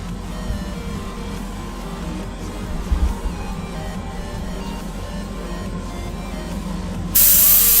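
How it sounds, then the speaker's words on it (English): An airbrush sprays primer onto Greek style vases with a steady, soft hiss of compressed air, close and continuous, with a few light knocks and a sudden louder blast of air near the end. "once I've sprayed these with this primer"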